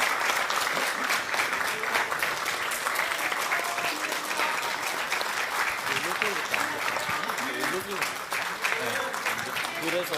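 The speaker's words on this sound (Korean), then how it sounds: "힘내시라고 큰 박수 보내주십시오." Sustained applause from a large audience at a political rally with Lee Jae-myung, dense, even clapping carrying on for several seconds, with faint voices and cheers buried in the crowd.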